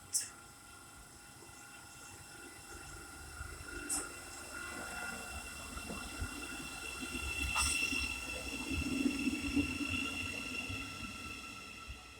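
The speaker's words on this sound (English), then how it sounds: "Will be the 1434 Great Northern service to Moorgate." A Great Northern passenger train pulls out of Welham Green station on the East Coast Main Line, forming the 14:34 service to Moorgate. Its rumble builds steadily with a few sharp metallic clicks over a broad hiss.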